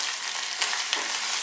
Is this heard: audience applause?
no